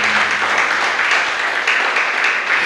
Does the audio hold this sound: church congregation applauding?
yes